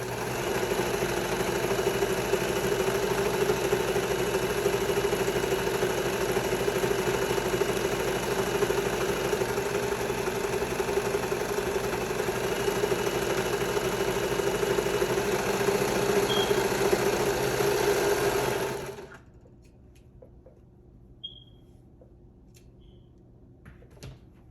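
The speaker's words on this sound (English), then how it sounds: "So I'm going to go ahead and serge the other seam." A serger machine stitches the seam of a pair of shorts, a fast steady mechanical whirr running for about nineteen seconds before it abruptly stops, leaving a quiet room with faint clicks.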